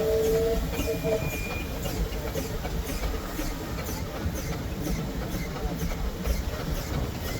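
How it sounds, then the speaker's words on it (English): A Wallace and Stevens agricultural steam engine named Gladiator runs at an outdoor steam rally, a low, continuous mechanical rumble and hiss heard at moderate distance, with crowd noise and faint voices in the background. "Next we have another Wallace and Stevens agricultural engine called Gladiator"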